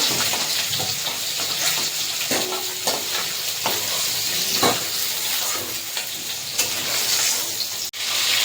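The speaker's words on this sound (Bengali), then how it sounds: "মাছ ভাজা হয়ে গেছে, তুলে নেব।" Pieces of katla fish fry in hot oil in a home kitchen, giving a steady, close crackling sizzle with light stirring scrapes, heard alone with no speech.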